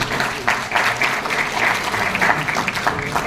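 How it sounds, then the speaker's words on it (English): Audience applause at the inaugural session of an international conference in Uttarakhand, a loud, continuous wash of clapping from a large crowd lasting a few seconds without speech. "A big round of applause for all of you."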